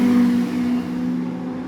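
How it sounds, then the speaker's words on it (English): Motorbikes pass by near a narrowboat, with a steady droning engine note that swells at first and then holds fairly loud and continuous. "A lot of motorbikes going by."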